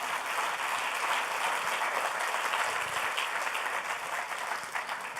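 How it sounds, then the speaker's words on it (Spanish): A church congregation during a Sunday service breaks into loud, sustained applause, a thick even wash of many hands clapping throughout. "Dale un fuerte aplauso al Señor."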